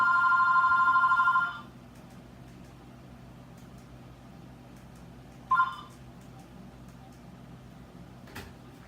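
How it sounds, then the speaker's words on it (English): A house phone rings indoors with a loud electronic trill lasting about a second and a half, then a pause of quiet room noise before a brief second burst and a faint knock. "My house phone never rings."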